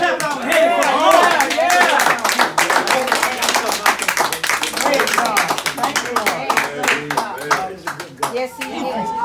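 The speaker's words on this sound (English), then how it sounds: "let's clap our hands for the Lord." A church congregation clapping hands together in praise during a lively worship service, rhythmic claps mixed with shouting voices and excited talk throughout.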